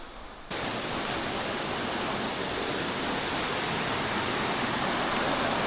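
Grojogan waterfall in Indonesia roars as a loud, steady broadband rush that starts abruptly after a brief quieter moment and holds constant throughout, with no voices.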